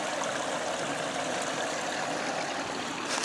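Creek water rushes steadily past a beaver-dammed stretch, a continuous broadband wash of flowing water, fairly close and even in level throughout.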